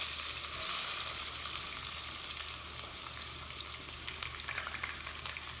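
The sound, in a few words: onions frying in hot oil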